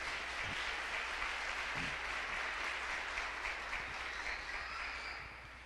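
Steady applause from a church congregation fills the space at moderate distance, holding evenly for several seconds before starting to fade.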